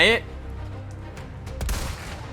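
Gunfire rings out in Resident Evil 4 Remake: a sharp shot opens the clip, then quieter scattered cracks and a louder blast near the middle, over a low rumbling game backdrop.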